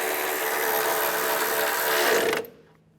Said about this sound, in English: Tighten those bolts down.